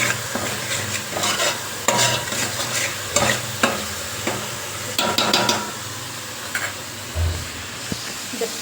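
Chole masala roasts in a pan with bay leaves, a soft continuous sizzle under repeated sharp clinks and scrapes of a spoon stirring against the metal, irregular and close.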